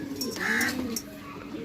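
Pigeons coo softly at a seller's stall in Shahdara, Lahore, giving a couple of low, throaty calls that sound close and faint.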